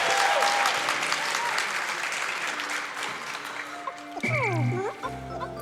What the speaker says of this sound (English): You can clap for the Pikmin.